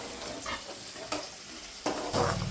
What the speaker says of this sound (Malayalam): ഇഞ്ചി നല്ലായിട്ട് മൂക്കണം കേട്ടോ